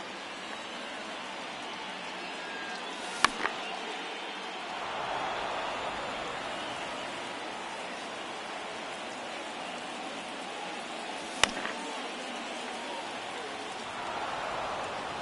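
Steady heavy rain pours outside as a continuous broadband hiss, with two sharp isolated clicks or knocks standing out briefly above the downpour.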